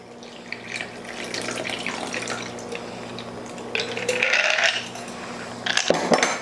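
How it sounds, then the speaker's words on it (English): Apple punch cocktail strained and poured over fresh ice, a steady liquid pour with clinking and rattling ice cubes, loudest toward the end, close and alone. "we're just gonna strain it and pour it over fresh ice"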